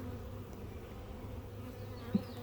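Honeybees buzzing at a hive in a bee yard, a steady low drone of many insects throughout, moderately close, with no voices.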